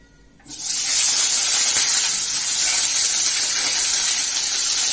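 Potatoes drop into hot oil and burst into a loud, steady frying hiss that starts abruptly and holds evenly, close and uninterrupted, with no talking.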